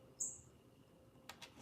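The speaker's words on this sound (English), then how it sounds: "Literally, can you hear the bird chirping?" A single brief, high bird chirp near the start, followed by a couple of faint soft sounds in a quiet setting.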